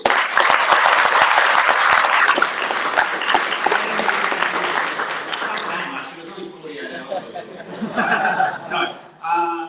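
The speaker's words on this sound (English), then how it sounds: "can you all give yourselves a round of applause?" An audience at a startup event gives a loud round of applause, dense clapping mixed with chuckles that thins out into scattered claps and laughter as voices come in.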